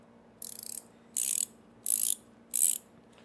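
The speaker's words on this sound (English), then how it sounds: "It is an ultra low profile 12-point box end that is ratcheting" A VIM Tools 12-point, 72-tooth ultra low profile ratcheting box end wrench clicking through four evenly spaced bursts of fine, rapid ratchet clicks, close and crisp against a quiet background.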